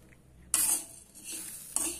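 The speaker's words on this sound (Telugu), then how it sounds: "ఆ పాత్రలో పెసరపప్పు వేసి" Dry moong dal is tipped into a pan on the stove and stirred, giving a sudden bright rattling scrape followed by shorter scraping strokes, close and fairly quiet.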